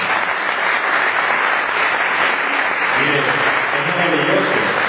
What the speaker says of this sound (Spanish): Denle un aplauso a la Biblia